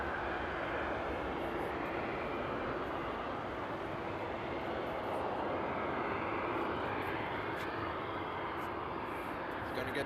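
A Condor Boeing 787 Dreamliner takes off from runway 07 center at Frankfurt Airport at night, a steady broad jet engine roar at moderate distance that holds level across the whole stretch.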